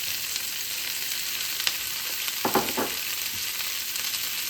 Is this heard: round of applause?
no